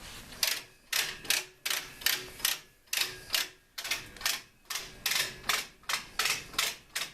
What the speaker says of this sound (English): anytime when you are loading quilts onto the frame, have your ratchets engaged